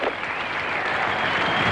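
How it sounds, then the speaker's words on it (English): A cricket crowd at the 1983-84 McDonald's Cup final between South Australia and Western Australia applauds, dense steady clapping filling the ground at a distance, unbroken by other sounds. "The South Australian crowd are applauding"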